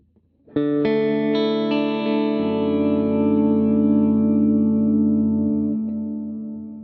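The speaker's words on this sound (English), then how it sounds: "quite a rich, long, full reverb, so I believe that's like a cathedral in the Headrush" Electric guitar notes ring out and build into a sustained chord through a Headrush cathedral reverb, swelling with a long, lush reverb tail that slowly fades.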